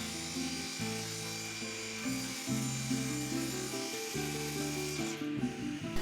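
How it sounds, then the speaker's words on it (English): An electric hand plane thins a wooden board for a Viking Age round shield, producing a close, continuous buzzing motor drone with shifting pitch and rough shaving noise as it passes over the wood. "tried to thin it out first with a hand plane, an electrical one"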